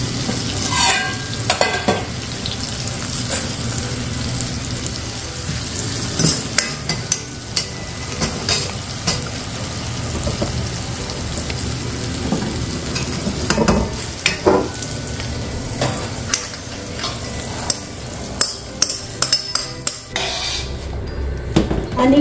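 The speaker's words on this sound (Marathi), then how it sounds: "आणि गरम येतोपर्यंत आपण हे सर्व मिक्स करून घेणार आहोत" A spoon scrapes and clatters continuously through a pan as hot tempering is mixed into crisp poha chivda, with sizzling, rustling flakes and irregular metallic knocks throughout.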